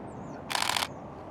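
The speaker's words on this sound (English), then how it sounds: "in the mechanical shutter it goes like this, a little bit clunky and a little bit loud" A Canon M6 II firing its mechanical shutter once, a single short, slightly clunky and fairly loud click close up in a quiet room.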